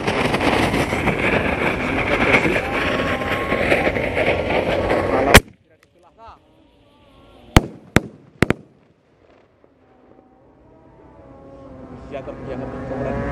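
A homemade bazooka-style roman candle firework set off during an Eid al-Adha night celebration, a loud sustained roaring hiss that cuts off abruptly, then several sharp distant bangs and pops against faint background noise.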